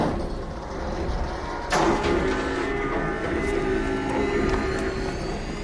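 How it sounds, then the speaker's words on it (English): In the video game ARC Raiders, a harvester sounds its fire flood warning: after a low rumbling background, a sudden loud, shimmering alarm tone cuts in and holds steady with sliding pitched lines, no talk. "You will get a sound notification that sounds like this when it's about to flood the area with fire."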